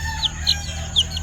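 Kelso and white pit gamefowl roosters give three short, sharp clucks spaced about a quarter second apart, close by, over a low steady background hum.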